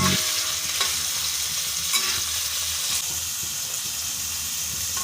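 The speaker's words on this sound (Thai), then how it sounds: "ใส่น้ำมันใส่ ผัดจนสุก" Stir-frying in lard in a pan, a continuous close hiss of sizzling fat broken by a few sharp scrapes and knocks of a utensil against the pan.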